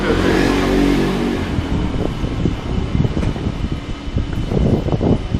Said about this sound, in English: this wind is real nice